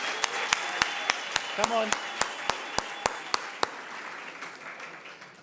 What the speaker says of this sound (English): So a round of applause for the non-financials.